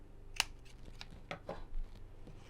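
Scissors snip through lengths of hook-and-loop fastening on a sewing table: a sharp first cut followed by several quieter, rustling snips and material shuffling, close up with no talking.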